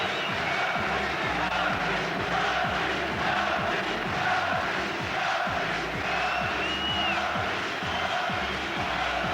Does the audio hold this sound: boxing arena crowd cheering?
yes